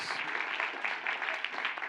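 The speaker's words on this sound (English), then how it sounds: "A huge shout out to the faculty and professors that drug you over the finish line to get you to this point. Round of applause." A commencement crowd at Manhattanville College applauds: a soft, continuous wash of clapping from a distant audience, fairly faint throughout, with no speech on top.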